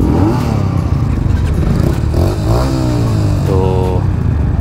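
A group of motorcycles roars and revs close by as a club ride gets underway, engines rising and falling with clattering and scraping under a steady wash of mechanical noise.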